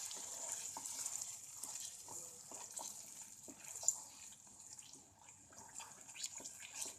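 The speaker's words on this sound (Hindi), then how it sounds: "पानी हम बस इतना ऐड करेंगे कि ये ग्रेवी हमें थोड़ी थिक रखनी है" Water poured into a thick cauliflower gravy for gobhi musallam makes a soft, steady splashing and trickling with faint clinks, fairly quiet and continuous for the whole stretch, with no voices.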